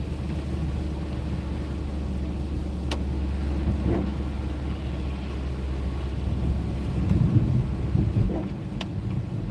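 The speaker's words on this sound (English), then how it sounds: "We're driving around Ashland today." Car driving around Ashland, steady low road and engine rumble heard from inside the cabin with light wind noise and a few faint clicks, no talking.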